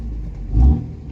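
A Cummins 5.9 diesel pickup on cruise control hums steadily from inside the cab, its engine drone swelling briefly as the RPMs come up, heard alone without talk.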